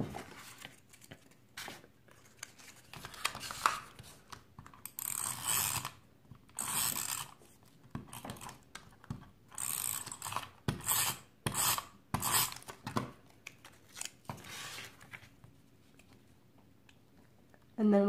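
Paper for a pocket folder is cut at an angle with repeated rasping, scraping strokes in irregular bursts, close and moderately loud, with quiet handling noises between.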